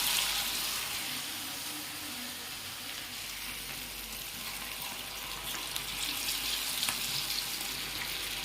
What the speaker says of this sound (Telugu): ఆయిల్ హీట్ ఎక్కాక ఆయిల్ చూసుకొని ఇలా పకోడా వదిలినట్టు వదలాలి.